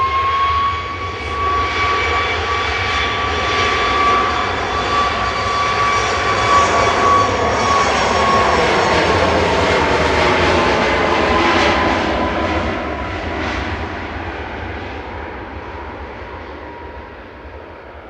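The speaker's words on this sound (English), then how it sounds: "Ryanair departing to Faro with flight 4088." Ryanair airliner departing Manchester Airport for Faro, a loud jet roar with whining engine tones that swells, holds, then slowly fades into the distance, no voices.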